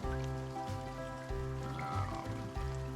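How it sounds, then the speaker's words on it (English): Steady rainfall in the farming video game Farm Manager World, a soft, even patter under a low, constant musical drone, with no talking. "Ooh, and it's raining."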